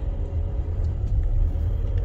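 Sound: cars driving past on a busy subdivision road

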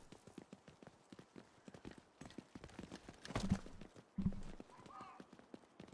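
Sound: footsteps in Division 2 video game

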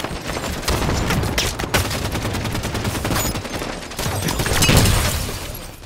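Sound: gunfire in the video game Halo 5 Guardians

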